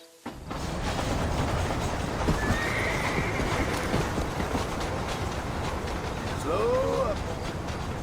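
A horse in the Western video game Red Dead Redemption whinnies near the end over a steady run of clip-clopping hooves and wheel rumble, with spoken dialogue running alongside.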